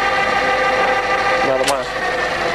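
A Colchester Student centre lathe spinning at 1500 RPM, a steady whining hum with mechanical harmonics that drops as the brake engages near the end, with a brief sharp squeal.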